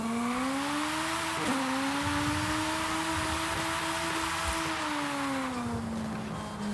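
A tiny car, the world's smallest, drives in Forza Horizon 5 with a steady, buzzy engine drone; its pitch dips briefly and then holds, with faint tire noise.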